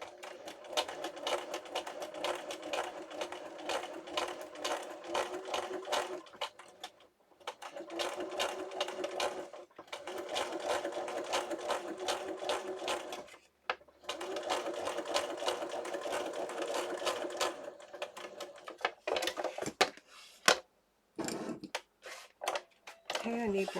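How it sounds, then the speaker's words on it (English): A sewing machine stitches a journal booklet in several steady rapid runs, stopping and restarting a few times, heard close, with someone talking at points between the bursts. "That's one thing with sewing, you got to make sure everything's out of the way."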